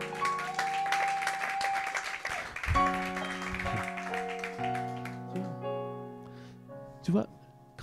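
A church congregation applauds during a worship service, a spread of claps mixed under sustained music and voices, rising and falling rather than standing alone.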